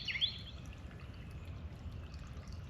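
Water pouring and trickling as it flushes rough, flaky debris out during a Lennox 2-ton gas furnace installation, a faint continuous stream with a brief higher squeak near the start.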